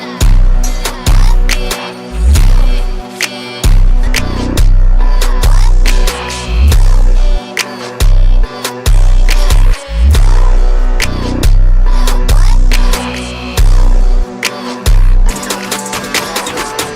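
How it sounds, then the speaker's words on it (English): A loud, heavy music beat with crunchy, distorted bass and punchy drums pulses throughout, with no voices. "only thing I would change is the distortion"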